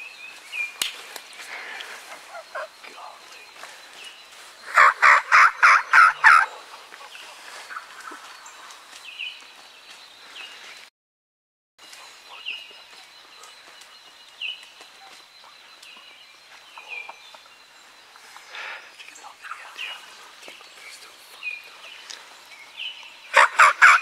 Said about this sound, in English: Did you hear that gobble?